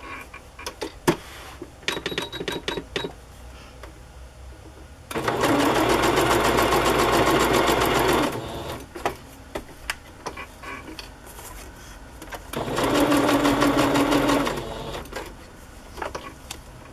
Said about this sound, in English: I'm gonna sew these three pieces together